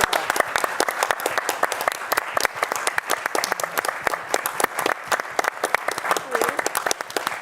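A conference audience applauds the report team, a dense, steady burst of many hands clapping that carries loud and even for several seconds with no talk over it.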